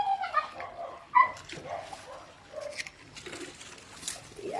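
Dogs at a backyard swimming pool give a few short barks and yips mixed with high whimpering, close and moderately loud, with a sharp bark near the middle.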